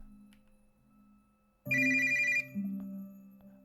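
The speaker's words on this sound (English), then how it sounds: "Lily took out her phone and saw it was Azura calling." A phone rings in the video game Blood Lily Ghoststories, a bright electronic ringtone bursting in loud and close for under a second over a quiet low background music bed that continues afterward.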